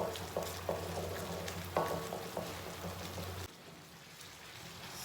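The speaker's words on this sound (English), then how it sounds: "So now we'll add in our ginger and garlic. And just stir them for another minute." Ginger and garlic frying in a pan for a prawn biryani base, with a steady sizzle, several sharp scrapes and clicks from stirring, and the sizzle dropping off abruptly partway through.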